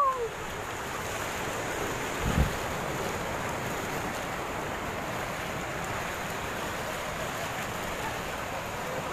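Sea waves at a seashore, a steady broadband wash of surf with wind noise, continuous and fairly distant, with a brief thump early on and no talking.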